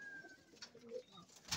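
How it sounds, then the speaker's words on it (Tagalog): A young racing pigeon gives a soft, low cooing call, close by and fairly quiet, with a faint chirp and a brief rustle at the end. "ang ibon natin na si Medyo Pale"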